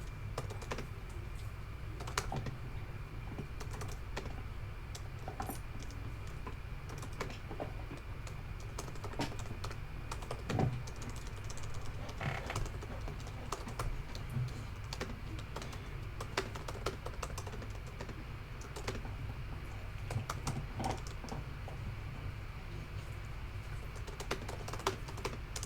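Steady keyboard typing on a computer runs continuously for about 25 seconds, dense fast keystrokes over a low constant room hum, close and moderately quiet with no talking.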